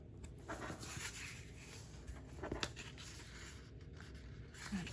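X-Acto knife drawn lightly through paper on a cutting mat, producing faint, soft scratchy scoring strokes with a few small taps, quiet and close in a still room.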